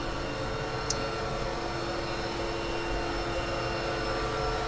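Engine room machinery on a Sanlorenzo SL120A superyacht runs as a steady, loud, dense mechanical roar with a constant hum, continuous throughout with no talking.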